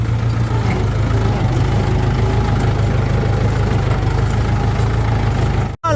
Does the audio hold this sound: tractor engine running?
yes